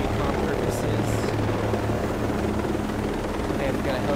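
A helicopter in the video game Ghost Recon Breakpoint flies steadily, a continuous rotor drone and engine hum filling the scene at close range.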